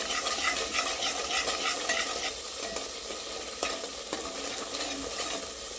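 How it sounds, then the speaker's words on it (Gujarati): A spoon stirring crushed roasted peanuts and sesame into a frying masala for a tindora and potato curry, with continuous scraping and soft sizzling from the pan and no voices. "શેકેલા સિંગદાણાનો ભૂક્કો કરીને રાખેલો છે એ ઉમેરી દઈશું. 1 ચમચી તલનો ભૂક્કો કરીને રાખેલો છે એ પણ ઉમેરી દઈશું. હવે બધું સરસ મિક્સ કરી લઈશું."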